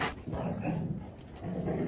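Two Belgian Malinois dogs bark and growl close by in a quick flurry, a couple of sharp barks breaking through rough, grumbling vocal noise.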